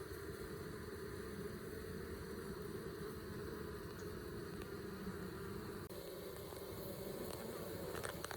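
Honeybees buzz on the ground outside a hive in winter, drones expelled from the colony, in a continuous, faint drone that holds steady throughout.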